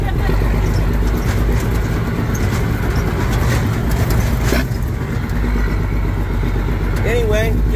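Loud, steady engine drone and rumble from a Deuce military truck running as the driver works through the gears, continuous and close, with people talking over it.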